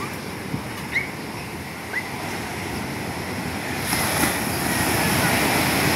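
Ocean waves wash steadily near a moored fishing boat in a rough sea, a continuous close roar with wind buffeting the microphone and a few faint higher sounds over it.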